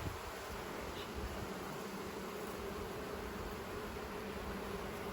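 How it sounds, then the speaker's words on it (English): Honey bees buzz steadily around a ten-frame hive as a five-frame nuc is installed, a dense, continuous swarm drone filling the whole stretch at close range with no talking. "So always be careful with these extra bees."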